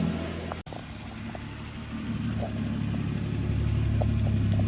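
A Holden VL Turbo car engine runs continuously as the car is moved, a steady close rumble that grows slightly louder and rougher after a brief dropout near the start, with no talking.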